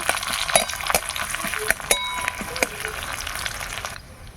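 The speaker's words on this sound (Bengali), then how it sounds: "পেঁয়াজগুলো ভালো করে ভেজে নেব" Chopped onions with bay leaf frying in mustard oil in a wok, a soft steady sizzle with occasional clinks and scrapes of a stirring spoon.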